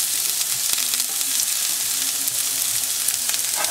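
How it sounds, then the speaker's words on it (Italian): Chopped asparagus and broccoli sautéing in a pan with a little olive oil, a close, even sizzle with faint stirring clicks and scrapes throughout. "li faccio rosolare in padella con un pochino di olio d'oliva"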